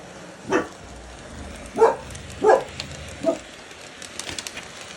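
A dog barks four separate times at irregular intervals somewhere around a train workshop. The barks are moderately loud and slightly distant, with quiet background noise between them.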